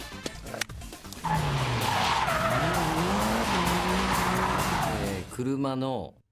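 A car drifts at high speed with a long, loud tire squeal and skid over a roaring engine, the screech shifting in pitch before cutting off, and a voice speaks toward the end.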